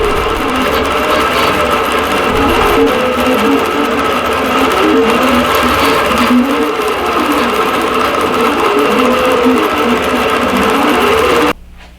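A longarm quilting machine stitches a quilt design in a continuous, close mechanical whir with a rapid rhythmic needle patter and gently wavering pitch, running alone until it stops abruptly at the end.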